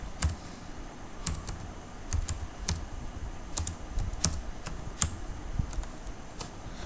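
Code is typed on a computer keyboard in quick, irregular bursts of clicky keystrokes, close and fairly quiet, with no talking.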